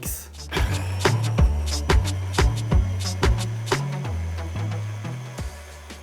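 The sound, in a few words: food processor blending crumbled shortbread biscuits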